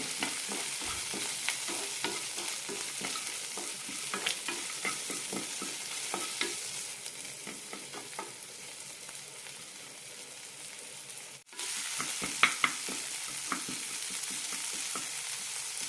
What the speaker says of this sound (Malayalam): രണ്ട് ടേബിൾ സ്പൂൺ നിലക്കടലയും നന്നായി മിക്സ് ചെയ്തെടുക്കാം